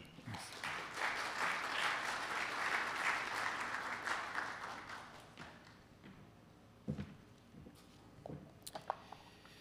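Audience applause fills a formal closing ceremony and cocktail, loud and sustained for several seconds, then thinning to a few scattered claps and taps before fading.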